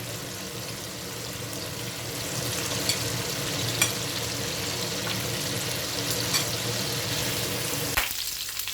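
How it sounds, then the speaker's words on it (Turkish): Steady, close sizzling and crackling of chicken frying in hot oil, with occasional clinks of a utensil and a sharp knock near the end. "ben arkalı önlü tavuklarımı kızarttım"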